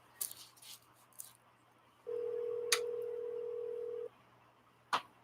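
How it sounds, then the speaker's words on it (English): An outgoing phone call placed by voice command, a single sustained ringback tone of about two seconds sitting between brief clicks and taps, with no speech. "See, it's ringing, so I can talk to Denise"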